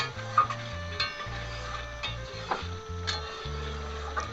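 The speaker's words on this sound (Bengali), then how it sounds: "এদিকে কষাটা আর একবার ভালো করে নাড়াচাড়া করে মিশিয়ে দেব" Village-style mutton curry being stirred in a pot while it sautés: a spoon scrapes and clinks against the pot in uneven strokes over a soft sizzle, close and moderately quiet, with no speech.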